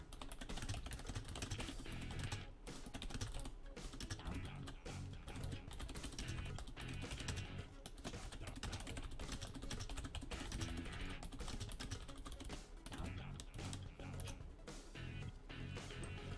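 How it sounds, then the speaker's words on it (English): Rapid, continuous typing on a computer keyboard, a dense stream of close clicking keystrokes that runs steadily from start to finish with no talk. "I'm just going to do some quick typing."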